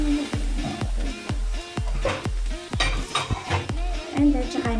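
Cabbage being stir-fried in a pan for fried rice, a steady sizzle broken by repeated sharp scrapes and clanks of a utensil against the pan at an irregular rhythm, close and fairly loud with no talking.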